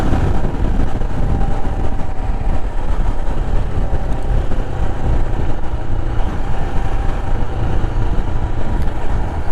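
A 2023 Royal Enfield Himalayan motorcycle on the move, its engine droning steadily alongside road and wind rumble, loud and continuous throughout, with no voices.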